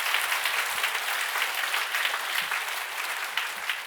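A congregation at a Korean church healing service claps together in sustained, even applause, a dense steady patter with no voices standing out.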